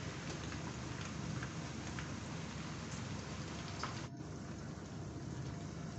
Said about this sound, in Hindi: ऑयल हमारा गर्म हो गया है। अब हम इनको ऑयल में फ्राई करेंगे।